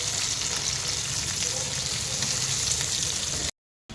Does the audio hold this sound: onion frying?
yes